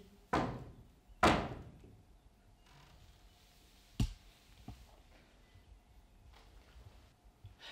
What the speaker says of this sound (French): toquer à une porte comme ceci